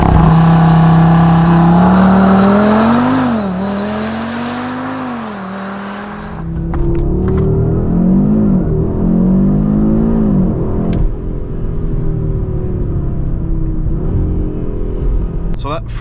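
A 2025 Audi RS3 facelift with the performance pack launches hard to 100 km/h on a country road, its engine rising in pitch through rapid gear changes, loud and close, with brief speech audible in the cabin.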